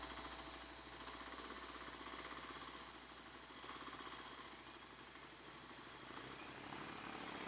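A Kawasaki KLX300SM motorcycle engine drones steadily while riding, a continuous buzzing mechanical note mixed with rushing wind noise, fairly constant in level throughout with no talking.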